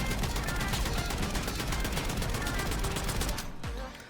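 Sustained automatic fire from the Feng Cornholio's Wrath gun in the video game Black Ops 6, a loud rapid stream of shots for over three seconds that stops abruptly near the end.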